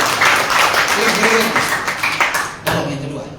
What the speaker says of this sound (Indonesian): Tepuk tangan dulu bagi Allah.